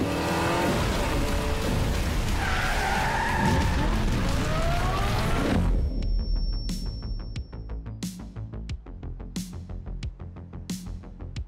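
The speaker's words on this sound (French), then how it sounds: "on va devoir faire crisser les pneus" A Hot Wheels toy car skids with a long, loud tire screech over a roaring noisy background, then cuts off and gives way to sparse clicks and faint clatter.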